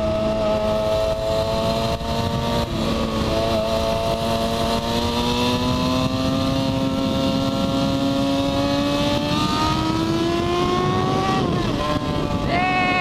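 A vehicle engine revs hard and accelerates. It sounds loud and close throughout, its droning pitch climbing steadily over several seconds with a couple of brief shifts.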